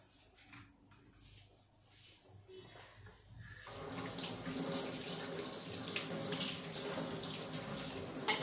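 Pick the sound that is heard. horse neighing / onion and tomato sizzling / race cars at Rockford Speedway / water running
water running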